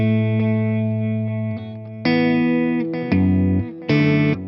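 Clean electric guitar notes from a Line 6 Helix patch ring out with echoing delay repeats and a touch of reverb, sustained chords shifting every second or so with no voices.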